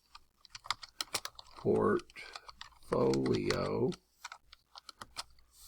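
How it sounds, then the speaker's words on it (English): Quick, light keystrokes patter on a computer keyboard, close and fairly faint, continuing around a voice that speaks two short phrases. "you're going to type in Digital"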